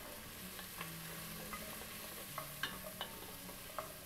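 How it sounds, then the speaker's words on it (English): A pot of silky squash soup with onions being stirred, a faint steady sizzle under scattered soft scrapes and clinks of the spoon against the pot, no talk. "And give the pot one more stir."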